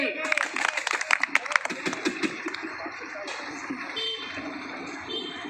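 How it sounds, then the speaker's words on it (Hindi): An audience claps at an outdoor street play about cleanliness, a dense burst of hand claps for the first two seconds that thins out and fades under ongoing talk and crowd noise. "बजाओ ताली"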